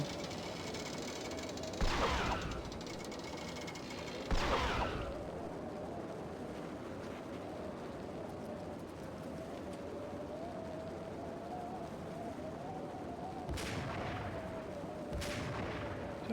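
Gunfire in the Max Payne video game: a few separate sharp shots spaced several seconds apart, loud against a steady background hum with a sustained tone.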